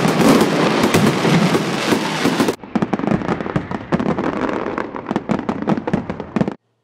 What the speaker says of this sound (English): imagine fireworks.